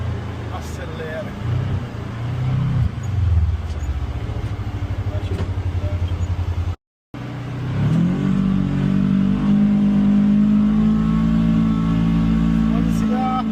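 UTV climbing a muddy red-clay trail, its engine surging and revving loudly with a steady drone, briefly cut off mid-way, then rising again under people talking nearby.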